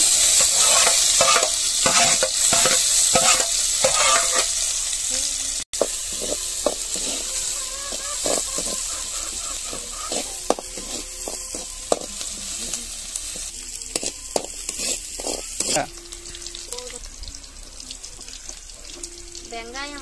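Onions and green chilies frying in hot oil with popped mustard seeds, a steady close sizzle cut by repeated sharp stirring scrapes against the pan, loud and continuous throughout.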